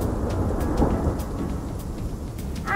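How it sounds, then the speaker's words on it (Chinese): Steady heavy rain pours throughout with a low, rolling thunder rumble beneath it and no talk. "啊，下雨了"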